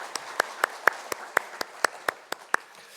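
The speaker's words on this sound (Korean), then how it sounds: "하나님 앞에 영광의 박수 올려드리겠습니다." A church congregation claps during a Sunday worship service in unison, about ten crisp, evenly spaced claps in a quick steady rhythm, close and clear, with a quiet background and no speech.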